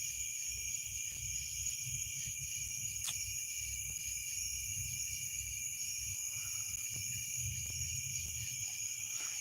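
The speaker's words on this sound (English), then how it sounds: "We do have crickets, cicadas, and frogs." Crickets and cicadas trill at night in a constant high-pitched chorus, steady and moderately loud, over a low, faint rumble with a few sparse clicks.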